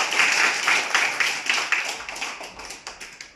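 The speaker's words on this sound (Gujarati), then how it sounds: "ચલો બધા તાળી પાડો પહેલા." A group of people in a classroom game claps in a quick, steady rhythm, close by, and gradually softens toward the end.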